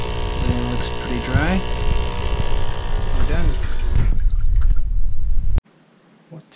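A Saeco Intelia espresso machine with a replaced water pump runs under pressure, giving a loud steady buzzing hum with gurgling water, while a person talks over it; the sound cuts off abruptly near the end.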